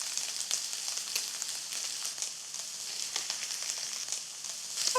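Pieces of food, cooked with onions and sausage, sizzle steadily in a frying pan after being turned, a continuous bright hiss with small pops, faint and close.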